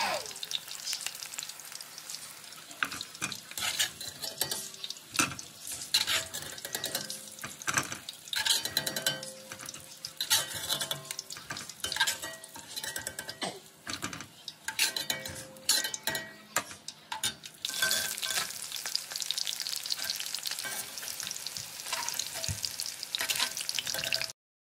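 Cauliflower florets frying in hot oil for gobi manchurian, a steady loud sizzle with repeated scraping and clinking of a spatula stirring in the pan, close up with no talk.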